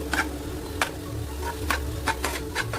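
Cooked minced meat for kari dosai, finished with garam masala and chopped coriander, is stirred in a pan, giving soft scraping taps roughly every half second over a low background hum.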